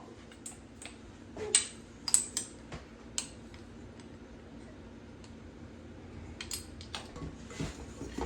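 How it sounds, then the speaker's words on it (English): Flour, salt and baking powder for strawberry muffins being mixed in a bowl, giving light irregular clicks and taps of a utensil against the bowl, a few sharper knocks spaced over a quiet room. "we're just incorporating all the ingredients so that the salt and the baking soda is equally distributed amongst the flour"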